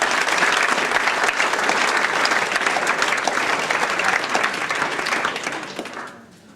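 Sustained applause from a crowd at a rugby league club's awards dinner, dense and even for several seconds before tapering off at the end.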